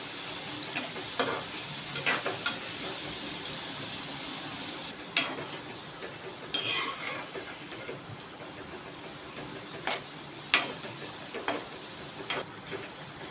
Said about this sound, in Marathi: पलटून पलटून भेंडी चांगली कुरकुरीत तळून घ्यायचे